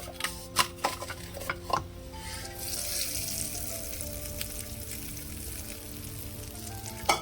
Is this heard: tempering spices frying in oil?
yes